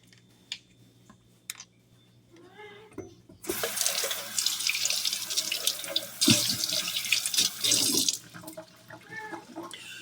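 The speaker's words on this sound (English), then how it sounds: "Gonna wash it off while we're waiting." A kitchen sink tap runs to rinse something off, a loud steady gush of water for about five seconds after a few quiet clinks and handling noises, then cut off to faint clatter.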